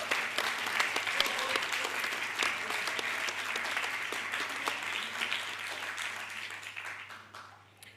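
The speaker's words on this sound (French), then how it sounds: "Je voudrais refaire applaudir Sandrine Lagorce et son équipe" Sustained applause from a congress plenary audience, many hands clapping steadily at moderate volume before gradually thinning and fading out toward the end.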